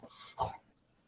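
A dog gives a single short, rough bark, close and moderately loud, over quiet background noise.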